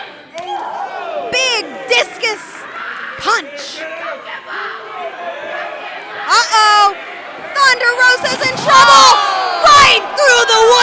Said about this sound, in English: The crowd is on fire here tonight